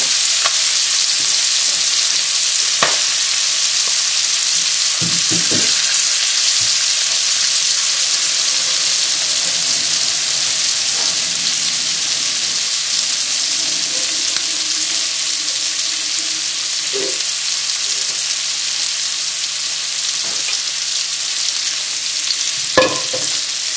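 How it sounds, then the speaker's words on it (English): Steady, loud sizzling of liver frying in a pan fills the whole stretch, with occasional scrapes and clinks of a utensil. "the pan's still sizzling away"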